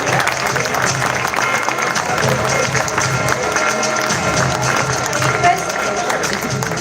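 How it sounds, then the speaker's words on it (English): An audience at an annual hostel social gathering applauds an award winner named best outgoing student, with dense sustained clapping and crowd noise filling the hall throughout. "With a big hand of applause."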